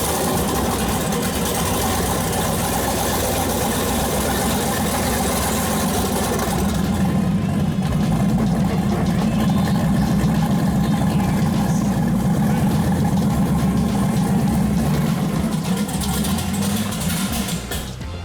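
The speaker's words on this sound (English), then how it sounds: "start my car, and get it out of the trailer and into my garage" A race car engine, a 7-second drag car, starts up and idles loud and close, a steady deep rumble running without break for the whole stretch, with no talking over it.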